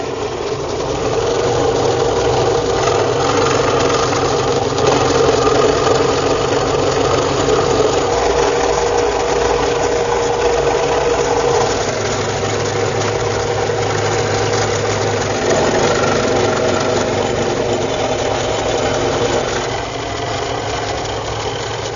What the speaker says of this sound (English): even with the 20-inch throat on my scroll saw